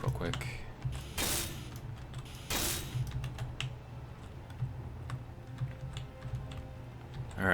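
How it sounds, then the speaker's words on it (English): Blocks welded in the video game Space Engineers produce a dense mechanical grinding and clicking texture with a steady low hum underneath. Two brighter bursts of hiss stand out and continue throughout at moderate loudness. "Get those welded up real quick."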